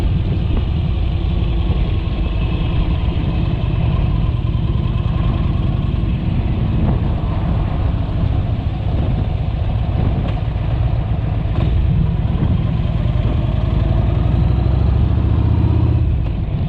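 Motorcycle engine running steadily on a lakeside ride, a continuous loud low rumble throughout, with small shifts in pitch that could be downshifts and no clear gear changes standing out.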